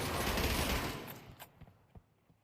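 Gunfire in a competitive Pavlov VR match: a dense burst of shots up front tails into several sharp separate cracks, loud at first and then more spaced out and fainter.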